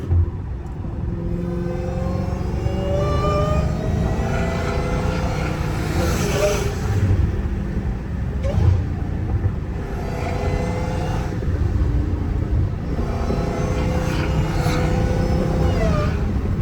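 A Dodge Hellcat Redeye's supercharged engine drones loudly throughout, a steady rumble with a rising and falling supercharger whine heard from inside the car.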